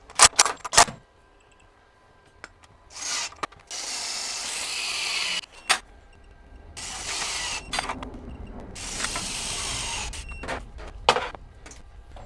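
A FLEX 24V compact impact wrench fires in several loud, separate bursts of rapid hammering with ratcheting clicks and quiet gaps between them, close by, with no talk.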